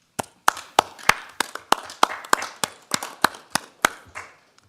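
Scattered, sparse clapping from a small group at a county board of commissioners meeting, a dozen or so distinct near claps in an uneven rhythm, alone without talk.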